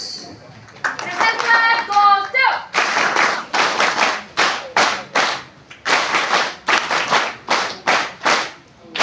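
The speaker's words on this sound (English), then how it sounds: "Yes, clap, please." At a felicitation ceremony welcoming a district official in Jaisalmer, a voice speaks briefly before the audience breaks into rhythmic, close, emphatic clapping that pulses in even waves to the end.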